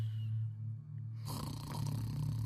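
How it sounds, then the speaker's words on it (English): A father snoring in his bedroom at night: after a quiet, still moment, one long raspy snore rumbles in loud and close and carries on to the end. "He is snoring in his bedroom."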